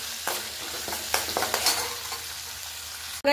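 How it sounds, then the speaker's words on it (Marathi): Green chillies and curry leaves sizzle in hot oil for a tadka for Kokani dadpe pohe, a close, steady crackle with a few sharp spits and pops, ending in a brief louder clatter. "हिरवी मिरची ऍड करते मी जेव्हा तेल व्यवस्थित गरम झाले त्या टायमाला"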